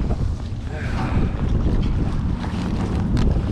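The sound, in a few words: strong wind on a boat on the Detroit River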